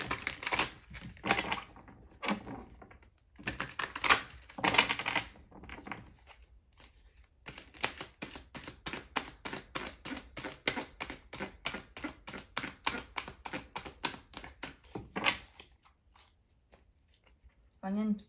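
Tarot cards are drawn and handled during a reading, with soft papery shuffles, slides and taps in irregular bursts, interspersed with a person talking.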